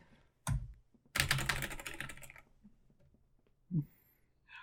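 Brisk clattering like fast typing, mimicked by a person, in a dense burst lasting about a second, with a few isolated thumps before and after.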